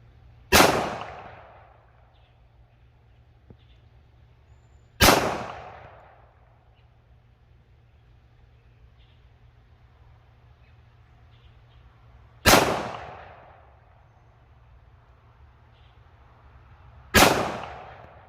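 Four loud, sharp pistol shots from a Nighthawk Custom 1911 fired left-handed on a range, spaced several seconds apart with quiet gaps, each with a short decaying tail.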